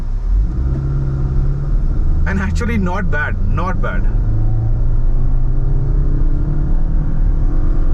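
A fully loaded Maruti XL6 automatic, a 2022 top-model Alpha carrying six people with the AC on, pulls up a steep incline, its engine rumbling steadily and close throughout while someone talks briefly partway through.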